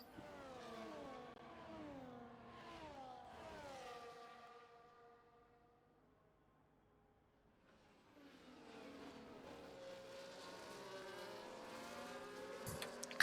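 Race car engines in a Grand Prix racing video game set in Australia, revving in sweeping rising and falling whines, fading to near silence midway before a denser, louder roar of several cars returns.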